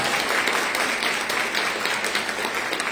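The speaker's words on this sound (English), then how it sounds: "Please, ladies, give yourselves a round of applause." A room of women at a leadership luncheon at Purdue applauds themselves, a steady, moderately loud wash of many hands clapping with a few sharper claps poking through.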